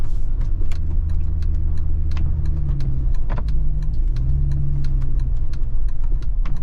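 A turbocharged Nissan 350Z drives on an icy road. Its engine gives a loud, steady low drone throughout, with the pitch rising and falling slightly. No one speaks.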